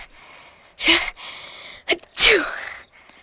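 Two sharp human sneezes sound close and loud, each opening with a short breathy intake before the explosive burst, the second one bigger than the first.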